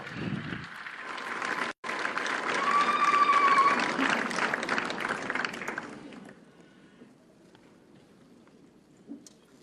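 Audience applause at a US-Africa summit after a Botswana choir performs, a dense wash of clapping that swells for several seconds, then fades quickly to quiet room tone with a brief murmur.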